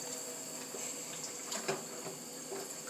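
Water runs steadily from a kitchen sink tap while hands are washed with soap and bleach water. It is faint, with a few soft splashes and clinks over the hiss.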